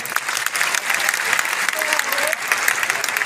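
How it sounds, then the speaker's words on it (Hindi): Dense, enthusiastic applause from a large audience of students at a maths seminar in Patna, continuous clapping with crowd noise throughout. "मैं आप सबसे चाहूंगा एक बार आप जोरदार तालियों से स्वागत करिए"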